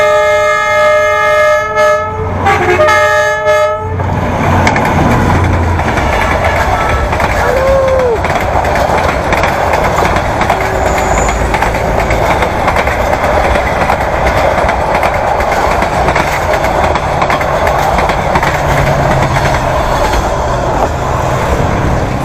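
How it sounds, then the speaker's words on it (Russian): A passenger train runs past on a line in northern Vietnam, its horn sounding briefly at the start before a long, steady rumble and clatter of wagons rolling by close at hand, continuous and loud throughout. "Фирменный поезд Чаваш едет."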